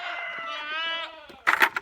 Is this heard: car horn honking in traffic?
no